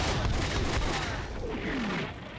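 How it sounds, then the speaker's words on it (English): Artillery shells land in the WWII strategy game Combat Mission: Beyond Overlord, a dense, continuous roar of explosions and gunfire filling the scene, with a whistling descending tone near the end. "now the artillery started falling"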